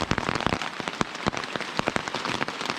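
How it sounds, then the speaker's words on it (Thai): Steady rain falls on a forest during a rainy-season hike, a dense patter of drops with sharper close taps and splashes striking the tent or gear nearby, continuous and fairly loud with no voices. "ตอนนี้ก็บรรยากาศดีมากนะครับฝนตกเนี้ย"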